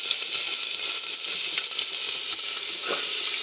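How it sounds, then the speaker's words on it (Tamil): Chopped onions sauté in hot oil for a chicken curry, giving a continuous loud, close sizzle and crackle with faint stirring scrapes throughout. "இப்போ இதில் வெங்காயம் ஆட் பண்ணிக்கலாம்."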